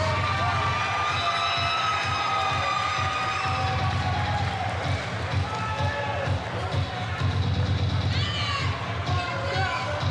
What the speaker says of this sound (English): this crowd has started to make some noise